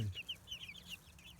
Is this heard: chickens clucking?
yes